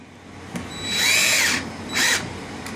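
A power drill drives screws into an incubator panel in two bursts, the first a longer, rising whine and the second shorter, with brief clicks before and after each run.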